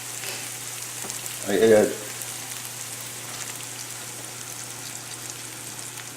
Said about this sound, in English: this has been about 8 minutes of cooking the sausage